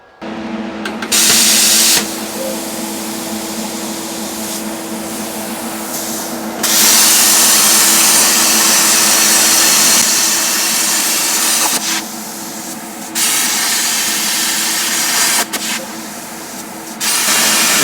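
A cutting torch or plasma cutter pierces a hole in steel plate during engine mount fabrication, producing a loud, continuous hissing roar that surges and drops in level over several long stretches.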